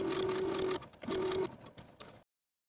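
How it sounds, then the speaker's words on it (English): A sewing machine stitching darts on a ball gown, two close bursts of fast steady whirring stitches separated by a short pause, followed by a few soft clicks before falling silent. "Now I can take these darts to the sewing machine"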